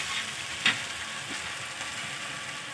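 Pea nimona cooks in a pan in a village home, with a steady close sizzle and bubbling, a single light clink of a utensil partway through.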